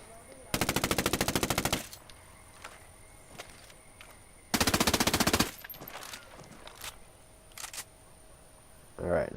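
Automatic rifle fire in the game Ghost Recon Wildlands comes in two sharp rapid bursts of roughly a second each, with scattered single shots and clicks between them, loud and close.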